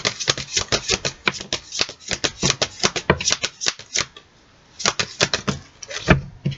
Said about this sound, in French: On va tirer 4 cartes du Dixit.